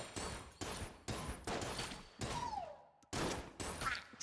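Rapid bursts of pistol fire from the pilot character's gun in a roguelike video game, loud shots repeating about every half second with brief pauses and game effects between them.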